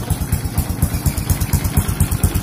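A Honda Kharisma motorcycle engine running at idle up close, a fast, even, throbbing putter with a light mechanical clatter and no voices.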